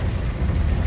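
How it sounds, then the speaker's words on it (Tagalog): Heavy rain heard from inside a Grab car on a city street near Taft Avenue, a dense low drumming and rumble filling the cabin steadily and loudly. "dahil sobrang lakas ng ulan"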